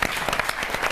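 Lively audience clapping at a Hindi comedy poetry gathering (hasya kavi sammelan), a short burst of dense, close applause with individual claps standing out.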